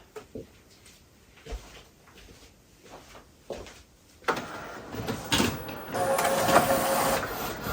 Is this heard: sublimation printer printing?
yes